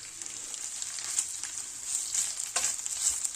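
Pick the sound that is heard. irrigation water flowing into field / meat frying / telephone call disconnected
meat frying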